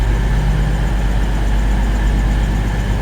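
A loud, steady low engine rumble close by as a Northern Rail class 158 diesel train draws slowly alongside a platform on the Northumberland Line.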